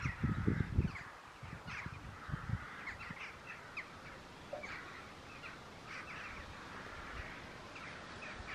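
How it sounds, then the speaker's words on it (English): A huge flock of hundreds of crows caws outdoors, harsh calls overlapping at a moderate distance, with a few louder, nearer rustles or thumps at the start. "suddenly there's hundreds and hundreds of crows"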